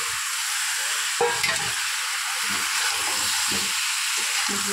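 Fried potatoes and jackfruit stirred and frying together in a pan, a loud continuous hiss and sizzle with several close spatula scrapes and knocks against the pan.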